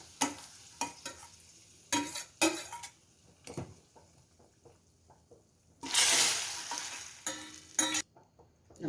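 A sambar tempering sizzles in hot oil in a pan, with bursts of sharp crackle and a loud hiss swelling mid-way, between clinks of a spoon against the pot.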